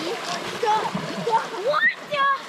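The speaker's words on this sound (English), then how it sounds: "First thing we gotta do is cross this little creek here" Wading through a small, cold, rocky creek in the woods while camping, with continuous splashing and rushing water and people talking over it.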